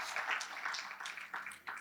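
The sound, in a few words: audience applause at sales summit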